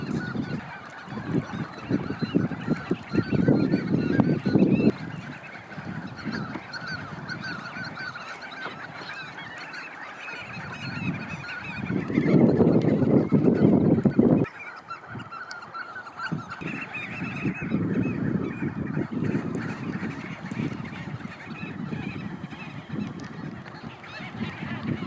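A flock of fluttering shearwaters calls with harsh, honking cackles in repeated bursts that swell and fade over about twenty-five seconds, fairly close with no speech.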